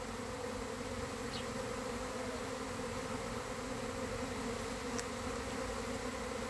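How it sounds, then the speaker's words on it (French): A dense, continuous buzzing of a honeybee swarm fills the air, steady and close, with no voices. "je vous laisse juste écouter le bruit, le bourdonnement, c'est juste impressionnant"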